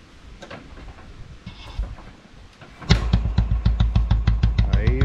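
A vintage Royal Enfield Bullet with a double silencer starts after a few seconds of quiet background, then settles into a loud, deep, evenly spaced thumping idle close by.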